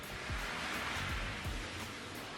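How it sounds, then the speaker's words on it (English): A car passes by outside, a steady broadband whoosh of tyres and road noise rising and falling, muffled and moderately distant with no voices, heard from inside a garage. "you can hear that car going by"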